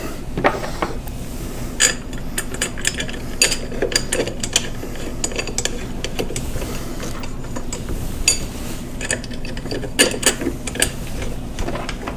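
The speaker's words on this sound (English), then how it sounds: "Take your 4 M5 by 25 bolts, screw them in hand tight." M5 by 25 bolts being screwed into the frame of an Ender 3 V2 3D printer, giving a steady run of small metallic clicks and ratcheting ticks close by.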